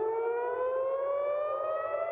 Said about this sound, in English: Sirens continue to be heard across Israel as Iran launches missile and drone attacks